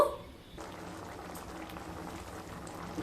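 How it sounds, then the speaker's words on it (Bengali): Ghugni curry bubbling in a pot, a soft, steady simmering burble heard up close and fairly quiet, with no voices. "তরকারিটা ফুটে এসছে।"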